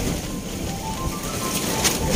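Strong wind at sea aboard a small fishing boat out squid fishing in bad weather, a steady loud rushing roar with buffeting gusts against the microphone and a tarp, with water and wave wash underneath.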